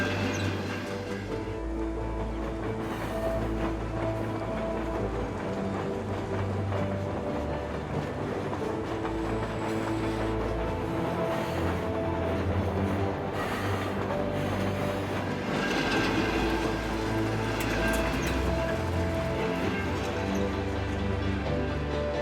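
A train passes with a steady, heavy rumble and a rhythmic clatter of wheels on rails, building slightly in loudness toward the end, with no voices over it.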